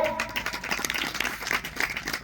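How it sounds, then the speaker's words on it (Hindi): Audience clapping in response to a spiritual teacher's prompt during a discourse, a dense patter of many hands lasting a couple of seconds at moderate volume, with faint speech mixed in. "चेतन है, ताली बजाओ।"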